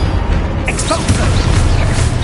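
A booming blast from the Expulso explosion spell in Hogwarts Legacy, a loud, dense burst with rumbling low end and crackling debris over a couple of seconds.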